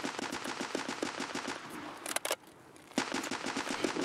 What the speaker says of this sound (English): Someone's trying to snipe me, I think.